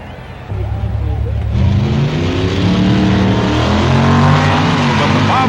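A Ford Thunderbolt drag car makes a run at the 1965 NHRA Winternationals, its engine roaring loud and close. The roar swells suddenly and holds steady, with rising harmonics as it accelerates hard down the strip.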